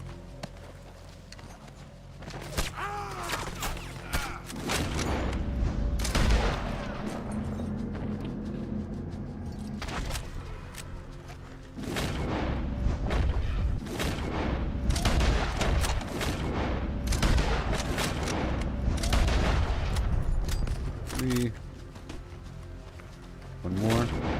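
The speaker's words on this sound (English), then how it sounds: "Big rifle. It's a very satisfying rifle." A big rifle fires in Red Dead Redemption 2: loud, booming single shots recur in irregular bursts over a long stretch, with footsteps and some talk between them.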